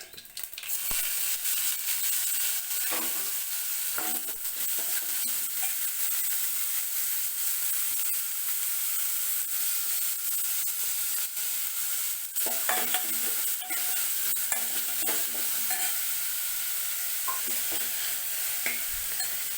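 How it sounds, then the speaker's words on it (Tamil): Mustard seeds, cumin, green chillies, crushed garlic and onion frying in hot oil, a steady bright sizzle with repeated stirring scrapes and occasional spatula taps throughout. "எண்ணெய் காஞ்சதும் கடுகு, சீரகம் இது ரெண்டுத்தையும் நம்ம தாளிச்சிக்கலாம்"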